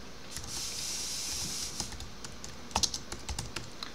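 Computer keyboard typing heard close, a run of crisp clicking keystrokes that grows sharper and more distinct toward the end, over a faint hiss.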